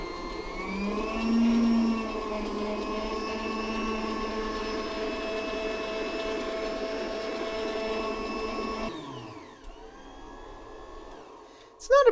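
A rare Hobart N50 stand mixer runs with a loud, steady mechanical whine and hum full of sustained tones, rising in pitch at first, then cutting off abruptly near the end and winding down, with a clunk at the finish.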